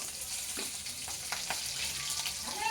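Chilies dropped into a sizzling mustard seed tempering for dhokla, a steady hiss of hot oil with a few sharper crackles and pops, close and fairly quiet, with no voices.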